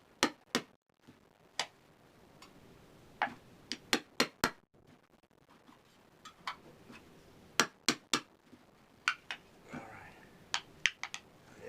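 Sharp metallic taps and clicks punch vent holes into a metal salsa container lid, about twenty crisp, close hits coming in quick irregular clusters with short pauses between.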